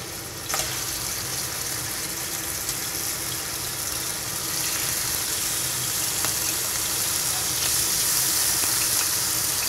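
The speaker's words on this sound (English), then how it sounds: "we start off by putting the meat into the pan and frying it off" Marinated meat sizzles and crackles steadily in a hot pan, a dense frying hiss that grows slightly louder over time, with occasional sharper pops.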